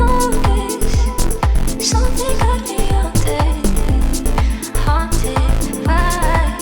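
A bright, buzzy synth bass with its filter cutoff raised plays a punchy rhythmic line over a steady kick drum, loud and upfront, with no talking.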